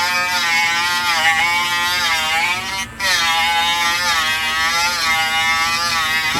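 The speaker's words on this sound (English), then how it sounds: "Using your Dremel tool and a stone bit," Dremel rotary tool with a stone bit grinding a Poulan chainsaw fuel cap, a steady high-pitched whine with wavering pitch, loud and close, with one brief dip partway through.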